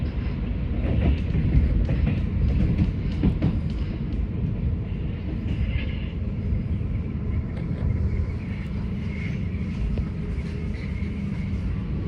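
A subway train on the U8 line rumbles steadily along the track for several seconds, a continuous low roar with rattling and squeals, heard from inside or close by.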